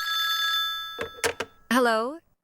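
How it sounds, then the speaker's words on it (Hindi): A telephone bell rings at night in a dark, quiet house, with a long trill followed by short, clipped rings, then a voice speaks right after. "नींद एक फोन कॉल से अचानक टूट जाती है"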